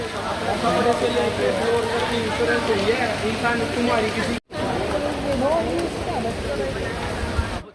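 Steady heavy rainfall hisses and patters in Dubai near a mall, a dense constant wash with people talking under it and a brief dropout partway through.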